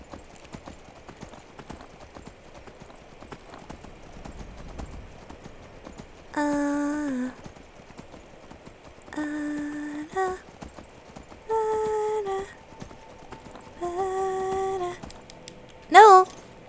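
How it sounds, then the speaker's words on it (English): Video-game horse gallops in four short bursts of rhythmic clip-clop hoofbeats with tonal harmonic game sounds, separated by quiet stretches, with a final brief loud burst at the end. "Go, horsey, go."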